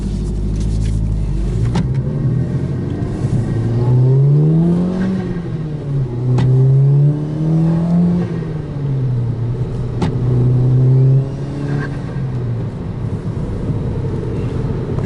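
A 2.0T FSI car engine with a Frankenturbo F23T turbocharger on a stock tune drones and rises through several revving surges, with a steady whine and road rumble, loud and close throughout.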